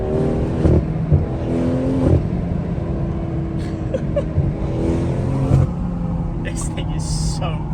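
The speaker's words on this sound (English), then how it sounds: "Let's just keep building boost, let it off the throttle, building boost, let it off the throttle." A BMW with a B58 engine revs repeatedly, building boost and then lifting off the throttle in cycles, a steady loud engine drone with swells and drops, while a person talks over it.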